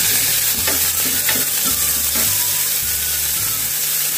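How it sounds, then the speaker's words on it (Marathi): Sprouted moth beans fry in oil with turmeric and spices, a steady loud sizzle under repeated scraping strokes of a spoon against the pan. "त्याच्यामध्ये मटकी टाकूया आपण शिजायला।"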